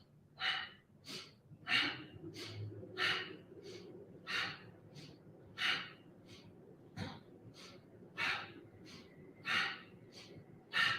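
Steady yoga breathing during a seated spinal twist, with about a dozen audible breaths in and out at a regular side-to-side rhythm, close and clear over a quiet room.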